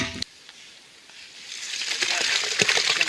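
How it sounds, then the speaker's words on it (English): A soft gritty slide and wet patter build up as heavy wet concrete pours out into a post hole, growing louder over a few seconds, close by. "All right, let's get this poured in"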